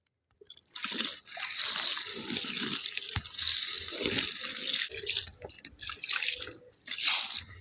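Water poured onto a newly planted seedling, a close splashing stream in several long bursts with brief pauses between them, no talking over it.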